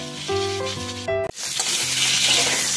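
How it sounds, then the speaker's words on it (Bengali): Sliced pointed gourd (potol) goes into hot oil in a pan just used for frying potatoes. After a brief tonal passage, a steady, fairly loud sizzling hiss rises and holds to the end. "পটলটা এবারে ভেজে নিচ্ছি।"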